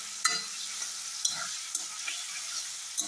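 Banana flower pieces frying with turmeric in a pan, a soft, fairly quiet sizzle broken by sharp spatula scrapes and taps at irregular intervals, with no voices.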